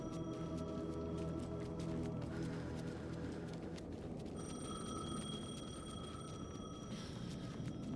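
A payphone rings in the video game Alan Wake 2, its high electronic ringing tones entering partway through over a low, murky ambient rumble, with no talk.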